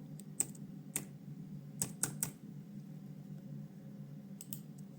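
Someone types on a computer keyboard into a web form, making a few sharp, scattered key clicks with pauses between them. The keys sound close but quiet over a low room hum.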